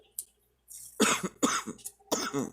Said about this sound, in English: Of course, I'm recording, so now I'm going to start coughing, right?